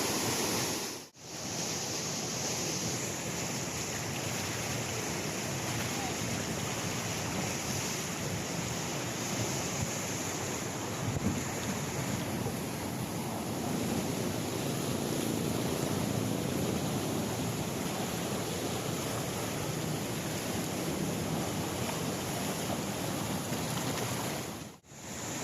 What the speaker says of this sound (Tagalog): Ito ang mga tubig na galing sa mga kabahayan natin at sa mga imbornal, sa mga kanal, papunta dito sa ilog ng Marikina.